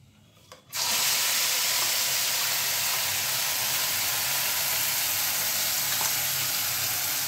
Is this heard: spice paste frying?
yes